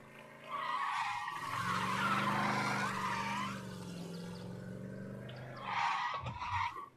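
Tires screech in a long, loud skid from a car in the Mafia Definitive Edition video game, a sustained wavering squeal lasting several seconds that fades briefly before a second short squeal near the end.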